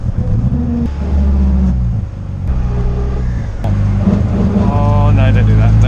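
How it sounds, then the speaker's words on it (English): A K series MG Midget with a failing differential runs under steady engine drone, and a rising tonal whine emerges as the throttle is lifted. Loud and close from inside the car, with a voice speaking over it. "Just if you lift off, you get that whine"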